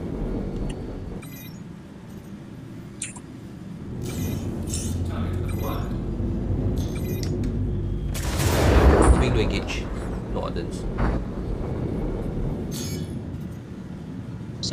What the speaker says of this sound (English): Some of the missiles are going crazy again